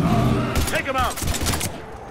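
Rapid gunfire against Husks in Mass Effect 3, bursts of shots crackling through the clip amid shouting voices and a dense combat din.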